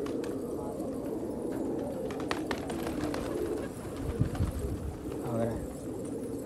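Pigeons coo softly and repeatedly nearby, low throaty calls rising over a rustling background with a few scattered clicks.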